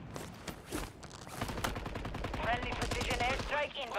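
Rapid bursts of automatic gunfire in a video game fill the whole stretch, loud and dense, with single shots giving way to sustained volleys and some layered game effects.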